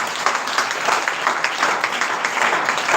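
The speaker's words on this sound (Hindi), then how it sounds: "जोरदार ताली बजाओ परमेश्वर" Church congregation clapping at a Friday worship service, a steady, dense wash of hands filling all three seconds at an even, fairly loud level with no speech over it.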